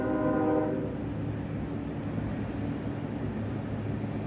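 A train's horn sounds loudly for about half a second, then fades into a continuous, heavy rumble of rolling wagons that fills the rest of the passage.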